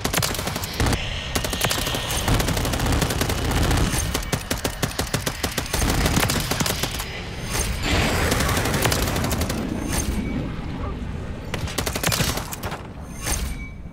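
Grenade launcher fire in a zombies video game, a dense, loud barrage of rapid blasts and booms that continues almost without pause and stays close and harsh throughout.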